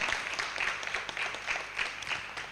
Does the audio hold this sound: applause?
yes